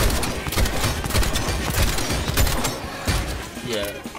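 Rapid pistol gunfire in a shooter video game, a dense run of sharp repeated shots that stays loud throughout, with voices talking over the shooting.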